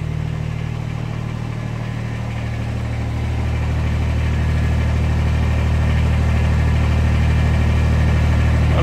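A Kubota diesel tractor engine runs at a steady idle close by, a loud, constant low rumble that swells slightly partway through, with wind outdoors in winter and no talking.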